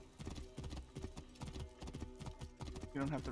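Video game horse hoofbeats clip-clop at a steady trot, close and clear, with a short horse whinny near the end.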